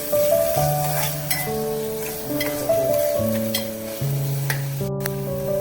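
Tomato and masala sauté in a pan for a khuba (clam) seafood masala, giving a steady, continuous sizzle and frying hiss with a melodic tune playing over it throughout.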